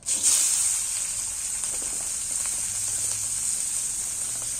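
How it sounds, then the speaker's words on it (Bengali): Green beans drop into hot oil in a pan, setting off a loud, steady sizzle that flares sharply at first and then holds as a constant bright hiss. "এই তেলের মধ্যেই এখানে বিম কড়াইগুলো তুলে দিচ্ছি"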